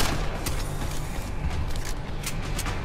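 Gunfire from the Deus Ex video game, loud and dense, with several sharp shots layered over a constant roar of combat noise and no voices.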